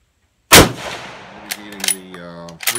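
A single loud, close gunshot from an Oberndorf Mauser 98 Sporting Type B rifle with a Zeiss scope at an outdoor range, followed by a ringing decay and faint clanks, with no talk.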